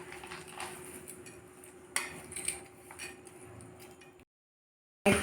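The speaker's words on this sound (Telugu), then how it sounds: "ఇవన్నీ కలుపుకుంటున్నాను. పెద్ద బౌల్లో ఉంచి కలుపుకోవాలండి." Fried ingredients for kheer being stirred together in a big bowl, giving scattered light clinks and scrapes of a spoon against the dish, with a few sharper knocks, a brief silence, then a loud clatter at the end.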